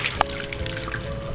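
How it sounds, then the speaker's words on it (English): Extra water is strained off freshly boiled homemade paneer, a steady close pouring trickle with a brief drip-like splash near the start and no talking. "We'll strain the extra water from it."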